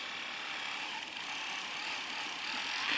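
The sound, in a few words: Scholl Velvet Smooth electronic nail polisher running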